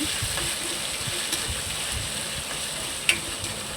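Ginger garlic paste sizzles steadily in a hot pan for chicken biryani while being stirred, with a continuous close frying hiss, soft scraping strokes and a brief sharp tick near the end.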